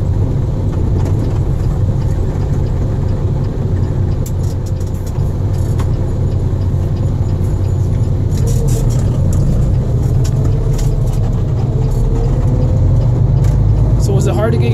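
Cummins 5.9 diesel engine at high idle in a semi truck, heard from inside the cab as a steady, loud low droning hum that continues without a break for the whole stretch.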